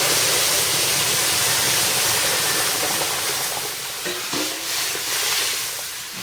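Dal poured into a hot tempering of dried chilli and bay leaf, giving a loud, dense hiss and sizzle that rushes steadily, then dips and bubbles unevenly toward the end.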